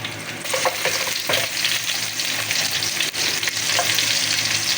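Onions for beef steak fry in hot oil, a loud, dense sizzle running the whole time with a few scraping stirs near the start.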